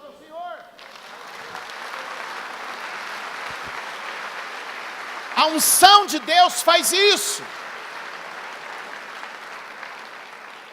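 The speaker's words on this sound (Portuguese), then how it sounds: "Dê um aplauso ao Senhor." Church congregation applauding during a sermon, a steady wash of clapping across most of the stretch, swelling briefly in the middle while a preacher's voice speaks and calls out over it.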